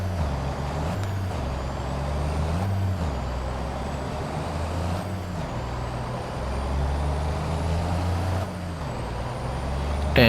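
A 650-horsepower Volvo WIA truck loaded with rocks in Farming Simulator 22 gives a loud, steady engine drone that rises and falls in pitch as it shifts through gears, with brief pneumatic hisses between shifts.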